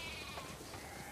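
Sheep bleat inside The Last of Us Part II, a steady, close, loud chorus of overlapping wavering cries that carries through the whole moment with no talking over it.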